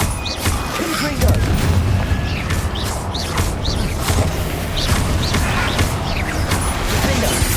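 Repeated blasting spells cast in Hogwarts Legacy burst as booming, crackling impacts at an irregular pace over a dense game soundscape, with faint bird-like chirps and mechanical rumble throughout.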